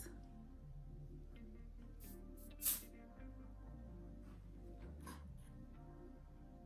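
A couple of short hissing sprays from a perfume atomizer over a low background hum, one brief burst followed by a fainter second.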